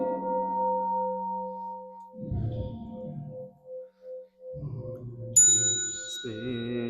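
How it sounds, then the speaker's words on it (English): A Buddhist temple bell is struck during a Sunday service, giving a sustained ringing tone that decays slowly under soft chanting voices before a bright, higher chime sounds near the end. "I send my heart along with the sound of the bell"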